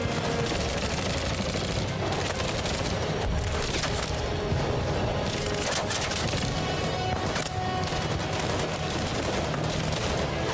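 Sustained gunfire in the video game Detroit: Become Human, a dense, loud barrage of shots and bursts running continuously throughout, with background game sound filling the mix.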